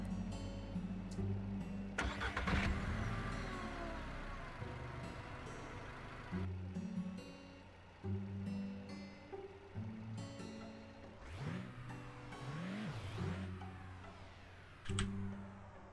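Car engine running in a Russian village simulator game, a steady low drone with shifting revving bursts and changing pitch throughout, fairly loud, with no talking.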